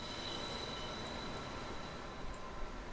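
Subway train passing in the OMSI 2 bus simulator game, a steady rumble of rolling wheels with faint squeals and a few light clicks.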